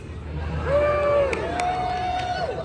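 An audience at a Deadpool story time in a theme park gives cheers and whoops over scattered clapping, with rising voices and a few sharp claps, swelling in the middle before easing off.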